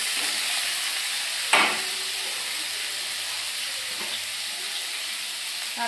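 Potatoes and tomato go into a hot frying pan with green chillies while cooking a Bengali fish curry, giving a steady, close sizzle with one sharp clatter as the food drops in, then continuous frying hiss.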